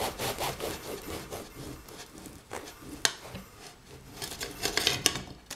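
A knife saws through a homemade loaf of bread, its crust rasping in steady back-and-forth strokes with sharper crunches near the end, close and fairly loud, with no talking.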